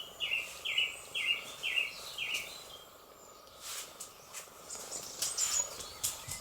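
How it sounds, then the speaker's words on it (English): Birds sing outdoors, a quick run of repeated chirps followed by scattered calls and faint background trills, fairly quiet and distant. "Can you hear the birds?"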